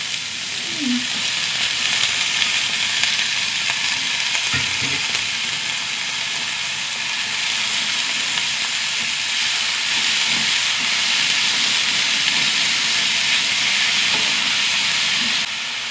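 Turmeric, salt, onion and green chilli sizzle steadily in a hot pan with oil, a continuous loud frying hiss throughout with faint occasional stirring clicks and no talking.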